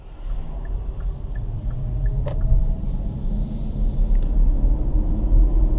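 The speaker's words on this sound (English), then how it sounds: "the noise that you can hear. It's only wind and the tires" Steady low rumble of tire and wind noise inside a Hyundai Kona Electric cruising on the Autobahn, a constant broadband drone with no engine note, heard from the cabin without talking.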